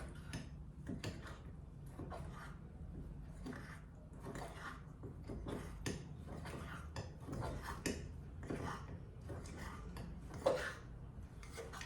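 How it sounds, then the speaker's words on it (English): A fork whisks vanilla mug cake batter with room-temperature milk inside a mug, giving a steady run of close, rhythmic clinks and scrapes against the sides with a soft wet squish. "Again, I am going to give mix by this fork."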